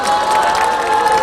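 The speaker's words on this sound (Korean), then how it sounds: "격려의 박수 부탁드리겠습니다." A large outdoor crowd at a rally over the comfort women agreement applauds and cheers for university students, loud and continuous with clapping and shouts blending together.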